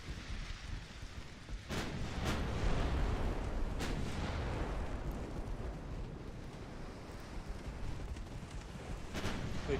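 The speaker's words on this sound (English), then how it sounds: "That was a 4-inch gun that did that." A 4-inch naval gun fires in a warship battle game, giving a few deep booming shots with rumbling tails over a low continuous drone of sea and engines, moderately distant and without talk.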